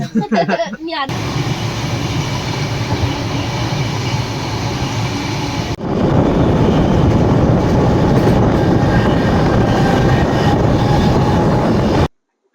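A passenger train rolls along the rails with a loud, steady rumble that lasts almost the whole stretch. The roar grows heavier partway through, then cuts off abruptly at the end.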